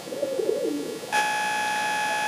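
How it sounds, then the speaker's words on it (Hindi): A red pigeon arrives and coos, soft low warbling calls over the first second, then a steady high electronic tone cuts in and holds to the end. "ये कबूतर उड़ करके आया है।"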